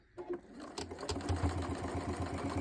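A sewing machine stitches down the layered fabric seams of a bowl cozy in a short, quiet burst of rapid, even mechanical chatter after a couple of faint clicks.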